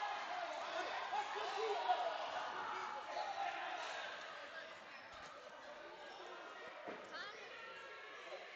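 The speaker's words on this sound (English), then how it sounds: "And the crowd does not like it" A high school boys basketball gym crowd rumbles and murmurs in disapproval, a broad roar swelling then easing, with a few sneaker squeaks and ball bounces beneath.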